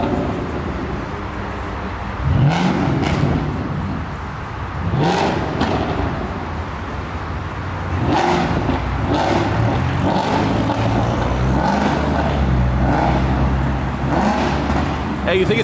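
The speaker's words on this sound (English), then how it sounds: "The Mustang is just doing a lap, revving his shit like every 5 feet." Ford Mustang engines rev in repeated bursts at a car meet over steady road noise, with talking mixed in throughout.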